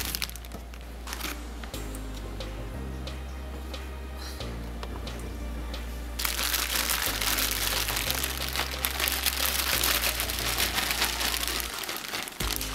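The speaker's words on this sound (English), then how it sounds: "we're going to put them in a Ziploc bag and put our oil in, mix it all around" Sweet potato fries tossed with oil and seasoning inside a plastic Ziploc bag give a steady crinkling, rustling shuffle that grows louder and busier midway, with no talking.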